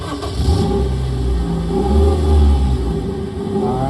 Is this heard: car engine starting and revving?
yes